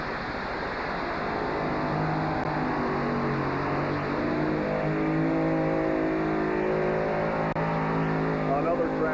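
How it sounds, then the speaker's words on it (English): A pulling tractor roars steadily down the track at a tractor pull, its loud, sustained engine drone filling the clip without a break, with a faint announcer's voice underneath. "Tractor is taking its toll here on the track"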